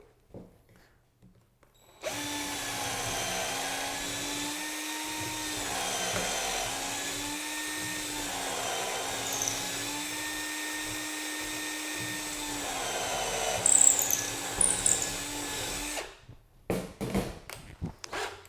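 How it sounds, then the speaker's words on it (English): A power drill whines steadily for several seconds as it bores through a piece of driftwood, its pitch wavering with the load, then stops and is followed by a few clattering knocks. "Now we want to drill a hole through the driftwood to run the wire through."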